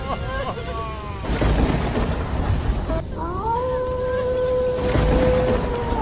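Heavy rain lashes a cartoon village on a bitterly cold night, a dense, steady roar throughout with drawn-out wailing tones rising over the downpour.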